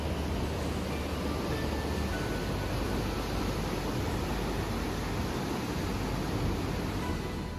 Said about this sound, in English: There are several cascading waterfalls along the way,